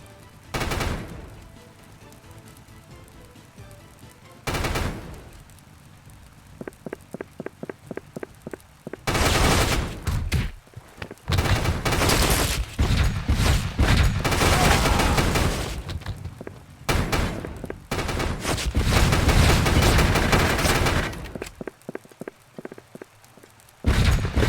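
Gunfire in the video game Pursuit Force: repeated machine-gun bursts with rapid rattling shots, single loud bangs and sustained booming volleys, loud and close, separated by brief quiet gaps.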